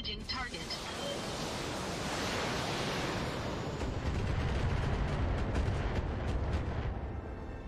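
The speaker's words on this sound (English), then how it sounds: "That was a lot of rockets to not kill that" Rocket volleys from a mech's missile launchers in BattleTech roar as a dense, continuous rumble of explosions and whooshing blasts, loud and sustained throughout, with a voice talking underneath.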